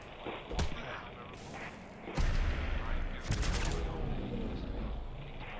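Bursts of gunfire in Fallout 4, with sharp shots and a rapid volley that ring out loudly among game sounds while a voice speaks.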